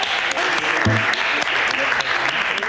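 Audience applause at a lively wedding-comedy gathering, a steady wash of many hands clapping at close range, with a voice briefly cutting through partway.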